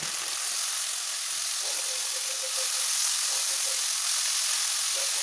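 Sliced onion fries in hot oil with ginger, garlic and fennel seeds, a steady bright hiss of sizzling that holds evenly throughout, close up with no speech.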